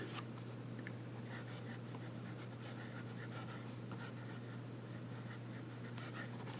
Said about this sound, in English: Very smooth and wet pen.